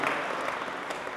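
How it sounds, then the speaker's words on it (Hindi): A crowd at a Bazm-e-Sukhan Urdu mushaira in London applauds the team with dense, loud, continuous clapping in a brief burst. "मुझे लगता है एक बार पूरी टीम के लिए आपकी ज़ोरदार तालियां बजनी चाहिए।"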